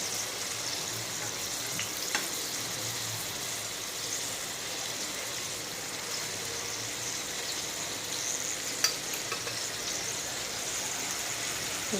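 A meat chop fries in a hot pan, giving a steady, moderate sizzle and crackle throughout with a few brief sharper pops, no voices.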